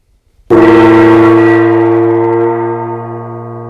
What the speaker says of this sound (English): very well-known Korean jing, and which is not same as the Chinese gong.